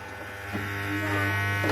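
A sewing machine runs steadily while a banner for a craft market stall is being made, giving a continuous buzzing motor drone with a low hum that grows slightly louder toward the end, with no talking.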